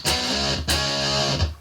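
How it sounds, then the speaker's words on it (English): An electric guitar runs through a Fuzz Factory fuzz pedal in a pedal-switching rig, giving a thick, buzzing distorted tone; two sustained chords are struck in succession, loud and close. "Let's turn on the Fuzz Factory."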